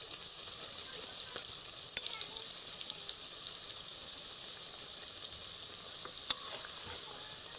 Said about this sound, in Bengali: একটা ব্যাচে এগুলো ভাজা হোক।